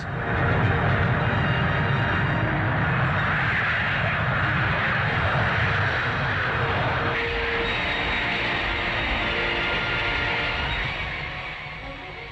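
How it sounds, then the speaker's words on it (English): The Red Pelicans, RAF twin-seat 300-mph jet training planes of the Central Flying School, roar steadily while taking off for formation aerobatic practice in 1963, a loud sustained engine rush that eases slightly at the end. "the Red Pelicans take off for aerobatic practice"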